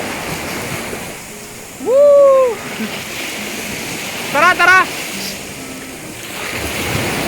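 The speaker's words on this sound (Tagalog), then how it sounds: "Baba tayo para marinig nyo yung alon" Continuous wash of sea waves and surf on a white sand beach at Patar, Bolinao, Pangasinan, with wind, heard steadily beneath excited shouts from people nearby.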